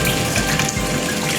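A water pump runs on a gold mill, sending a steady, close rush of gushing water with a churning low rumble underneath.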